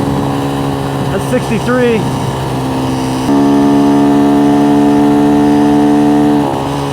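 An X-Pro Templar 250 dual sport motorcycle engine revving at high RPM on a ride, a loud buzzing drone that steps up sharply partway through and holds, with a rider talking over it.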